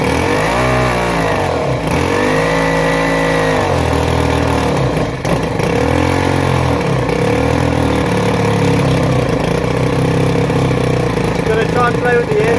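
A Ryobi petrol strimmer engine under repair runs loud and close, rising and falling in repeated revs against a rough idle while its choke is adjusted, with a voice speaking over it.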